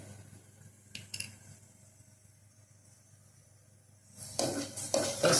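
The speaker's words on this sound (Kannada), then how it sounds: "ಫಸ್ಟು ಮೆಂತ್ಯನ ಲೈಟ್ ಬ್ರೌನ್ ಬರೋ ಹುರ್ಕೋಬೇಕು" Fenugreek seeds fry in refined oil, starting as a quiet, faint crackle and then bursting into a loud, steady sizzle toward the end.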